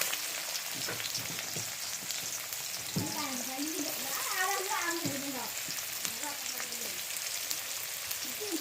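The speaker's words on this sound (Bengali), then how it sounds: "হালকা করে একটু পেঁয়াজটা আমি ভেজে নিব।" Chopped onions fry in a pan with a steady, close sizzle throughout, with brief scraping stirs and faint voice-like tones in the middle.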